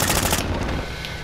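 Gunfire in the video game Call of Duty: a loud, rapid burst of automatic fire that cuts off abruptly, leaving a fading rumble, with no voices.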